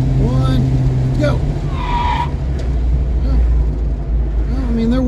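Hard stop from 65 mph in an older Ford Mustang with no anti-lock brakes, tires squealing briefly as they lock up over a steady road and engine rumble, close and loud, with a voice talking over it.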